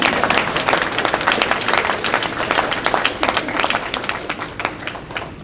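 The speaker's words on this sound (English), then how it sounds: "If you wanted to applaud for that, you may." An audience honoring the 2025 Wilmington Good Guy applauds steadily at close range, a dense patter of many hands clapping that tapers slightly toward the end.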